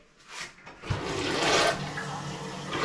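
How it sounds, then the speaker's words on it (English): A full flush of a newly installed toilet in a house under drywall construction: a close, steady rush of swirling water building over a few seconds and continuing to drain. "Big flush."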